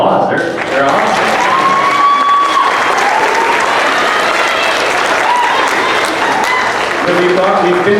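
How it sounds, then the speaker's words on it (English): Sustained audience applause at an evening awards event honoring SEASPAR athletes, a loud, dense wash of clapping filling the whole clip, with voices faintly audible in the crowd. "Give them a round of applause."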